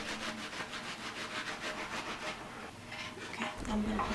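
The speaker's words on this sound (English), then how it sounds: "I'm going to start by slicing my onion." Knife slicing a red onion on a cutting board in a home kitchen, a series of rhythmic, soft rasping strokes close by, fairly quiet, with a brief duller knock near the end.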